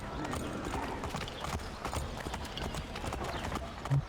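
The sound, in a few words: horse hooves while riding in the video game Assassin's Creed 3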